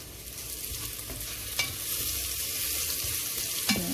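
Sliced onion sizzles steadily in a hot oiled pan while cooking goat caldereta, a constant frying hiss with a couple of brief scraping stirs, close and alone without talk.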